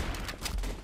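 Gunfire in the Trouble in Terrorist Town video game: a brief, loud cluster of shots with rough bursts, under a second long and close up.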